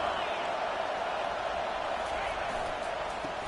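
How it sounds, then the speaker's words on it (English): Dense, roaring stadium crowd at an Auburn vs USC college football game, a continuous loud wash of noise that stays at full level without a break. "Listen to this crowd just shaking the girders of this place"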